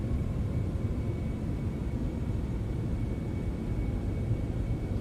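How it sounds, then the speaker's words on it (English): Cessna Citation X business jet in Flight Simulator 2024 rolling out after touchdown with thrust reversers deployed and brakes applied, a steady loud low roar and rumble filling the clip without pauses. "Thrust reversers and brakes."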